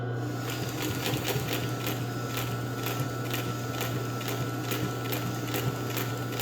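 Pfaff 145-H3 industrial sewing machine with a motor and 4-inch pulley running in reverse, a steady motor hum with regular mechanical ticking of the needle stitching.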